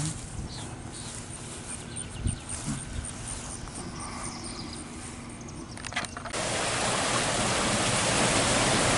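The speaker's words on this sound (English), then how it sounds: "Now this is where the Haw River comes up under the old mill" The Haw River rushing beneath an old late-1800s hydroelectric mill, a steady broadband roar of flowing water that swells louder and fuller in the last few seconds.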